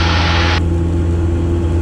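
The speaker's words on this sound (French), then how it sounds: "L'avion va accélérer un peu." The droning engine of a Robin light aircraft hums steadily from inside the cabin, a deep continuous rumble with a brief burst of hiss at the start.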